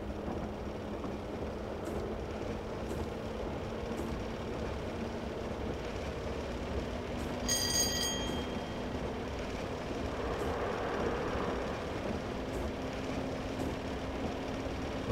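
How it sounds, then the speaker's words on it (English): A Class 121 Bubble Car diesel railcar on the Great Western Main Line in a train simulator game, powering up with a steady low engine drone and hum, a brief higher whine partway through, no talking. "It takes a while to engage the power on this train."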